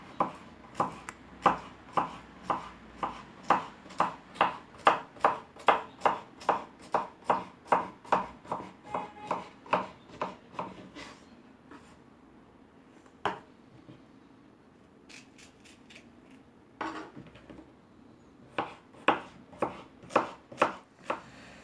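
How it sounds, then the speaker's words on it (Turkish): Rapid, steady knife chops thinly slicing zucchini on a cutting board, a long even run of crisp taps that pauses, then resumes in shorter bursts, close by. "ince ince kabaklarımı doğruyorum"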